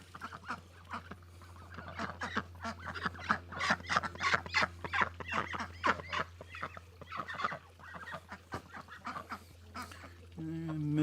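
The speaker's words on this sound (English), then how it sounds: "And our duck friends like staying up late." Domestic ducks quack repeatedly at close range in a backyard flock kept with hens and a guinea fowl, a loud, busy run of overlapping honking calls.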